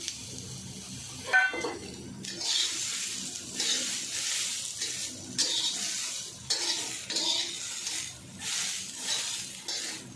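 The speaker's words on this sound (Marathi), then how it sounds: "आता मंडळी तेल न टाकता वाटाणे भाजून घ्यायचे" Raw green peas dry-roasting in a pan or kadhai with no oil, stirred steadily with a spatula; a soft continuous sizzle and scrape with rhythmic bursts of stirring, close and moderately loud, with no talking.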